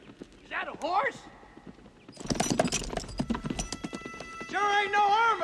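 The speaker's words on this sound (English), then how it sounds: "Is that a horse?" Horse hooves clip-clop in a quick rhythmic run of hard strikes in a Western setting, and a horse whinnies before and after. Voices are heard around the hoofbeats.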